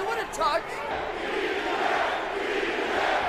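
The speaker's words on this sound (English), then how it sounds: "The crowd loves the Prodigy." Arena crowd at a UFC 137 fight between Nick Diaz and BJ Penn roars for Penn in a broad, sustained swell, with a commentator's voice briefly over the noise at the start.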